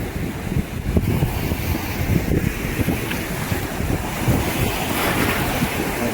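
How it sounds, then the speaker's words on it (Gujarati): Sea waves break and wash steadily on the shore during hook-and-line fishing, a continuous loud surf roar mixed with gusty wind buffeting the microphone. "આવી રીતે કંઈ મોજા પણ ઉતરે છે."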